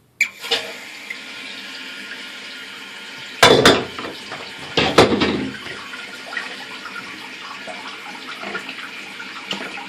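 A toilet tank refills through a newly replaced fill valve, with steady rushing, hissing water close by and a few louder splashing surges as the water turns on and flows.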